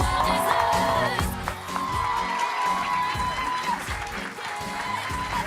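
A studio audience claps and cheers as Dr. Phil McGraw makes his entrance on a talk show set, sustained applause with scattered whoops, mixed with music and some talking throughout.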